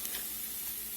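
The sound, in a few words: butter sizzling in a hot pan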